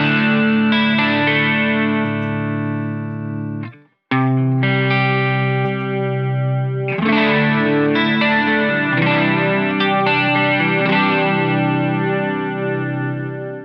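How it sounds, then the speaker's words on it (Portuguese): Electric guitar played clean through a chorus pedal from a pedalboard setup, sustained shimmering chords ringing close and loud, with a brief cut near four seconds before the strummed chords resume. "O chorus aqui eu uso um chorus mais para a maior parte do tempo para som limpo."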